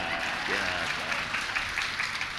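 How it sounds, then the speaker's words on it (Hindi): An audience at a Jain religious discourse claps in a steady, dense wash of applause that carries on without a break. "अब बजाओ तालियां।"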